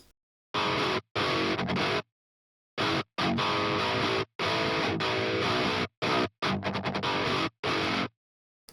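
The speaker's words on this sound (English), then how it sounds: "If we focus on just the guitar in the chorus" Heavily distorted guitar, an Odin 3, chugging in tight bursts in a metalcore chorus, with abrupt stops of silence between chords, loud and dense, no voices.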